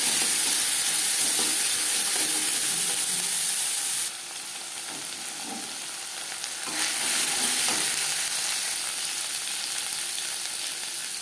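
Ginger paste, green chilli paste and garlic frying in hot oil with a bay leaf, a loud continuous close sizzle that steps down midway and then swells again, with faint stirring underneath.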